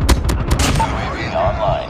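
Rapid bursts of automatic gunfire at a firing range in Call of Duty Mobile, dense and loud throughout with a few sharp cracks near the start.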